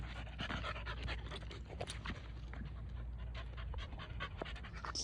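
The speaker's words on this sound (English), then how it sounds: "Getting the dog over here biting at the leash and stuff" Pit bull puppy on a leash panting hard in a yard, rapid continuous breathy huffs, close and fairly steady with scuffling noise throughout.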